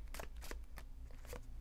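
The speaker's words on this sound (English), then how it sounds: "give this a little shuffle, our little affirmation cards" A deck of affirmation cards is shuffled, giving several soft, quick papery riffles in short bursts, close but quiet.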